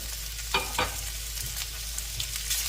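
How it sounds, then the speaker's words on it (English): Oil infused with ginger, garlic and hot sauce sizzles steadily in a pan, with a few stirring scrapes and spatters popping through the continuous hiss. "So first we infuse the oil with ginger, garlic, and hot sauce"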